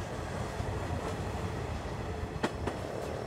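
A train runs beside the Kuma River in Japan with a steady rolling rumble and a few sharp clicks of the wheels over rail joints, heard moderately close throughout with no voices.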